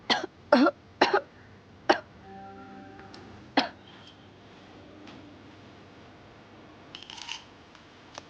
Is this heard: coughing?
yes